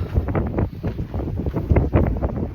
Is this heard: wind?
yes